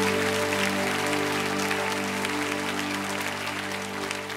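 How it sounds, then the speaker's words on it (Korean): A church congregation at a special dawn revival service with youth claps together in praise, a dense, steady roar of applause filling the whole stretch, with sustained musical tones ringing underneath. "우리 하나님께 영광의 박수 올리겠습니다"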